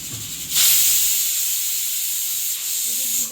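Pressure cooker cooking chicken lets out a sharp, loud steam whistle, a bright hissing blast that starts suddenly and holds steady for nearly three seconds, close by and alone.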